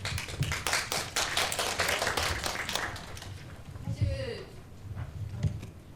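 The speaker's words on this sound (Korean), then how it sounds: "박수로 환영해 주십시오" Audience applause greeting a panel speaker at a Korean forum on changing families, dense clapping for about three seconds before fading as a voice and a brief tone take over.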